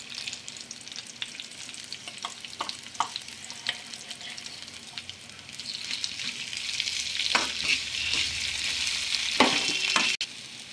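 Mashed potato frying and being stirred into a hot seasoning of spices in a pan for Telugu potato upma curry, a steady close sizzle with scraping stirs that grows louder and denser toward the end.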